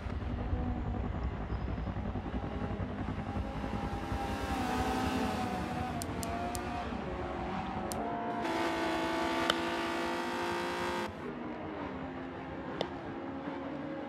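Mercedes and BMW race cars battle in a vintage DTM racing game at Suzuka, engines droning and revving steadily throughout, with one sharper high whine rising midway.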